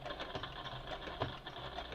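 A Brother CE1125PRW Project Runway edition sewing machine runs quietly in a fast, steady mechanical chatter, needle strokes ticking in rhythm, heard fairly close and faint.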